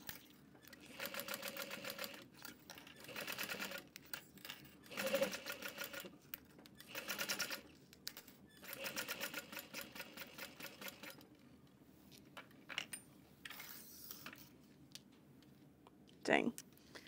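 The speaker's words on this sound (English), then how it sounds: "I'm just gonna sew all the way around the 4 sides." A sewing machine stitches around the sides of a clear train case in repeated rattling runs with pauses between them, while a person talks quietly at times.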